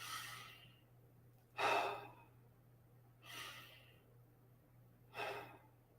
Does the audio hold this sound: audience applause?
no